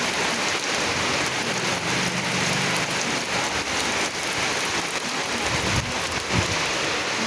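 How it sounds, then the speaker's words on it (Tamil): Heavy rain pours steadily and loudly in a dense, unbroken hiss, with no voices. "கனமழைங்க, அதிகமாக மழை பெய்யுது"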